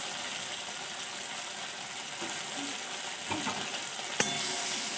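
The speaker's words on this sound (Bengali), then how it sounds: "নেড়ে নেব।" Spices being stirred into a pan on the stove for a vegetarian banana flower curry: a steady, close sizzle and frying hiss throughout, with a few brief scraping knocks near the end and no voices.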